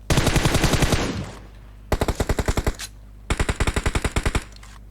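Automatic gunfire in a mobile shooter video game, with three rapid bursts of close, loud rounds separated by short pauses and no talking.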